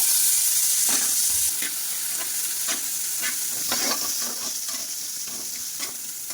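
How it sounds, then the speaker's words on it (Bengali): Panch phoron spices and grated coconut frying in hot oil: a loud, continuous hissing sizzle broken by repeated stirring scrapes at an uneven pace, close by with no talking. "পাঁচফোড়ন দিয়ে দিলাম তেলের উপরে"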